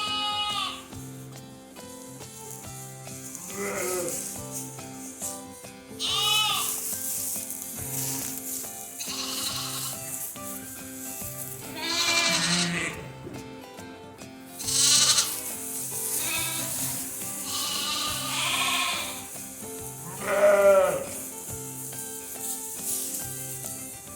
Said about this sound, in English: That noise lets the sheep recognise the lambs and the lambs recognise their mothers.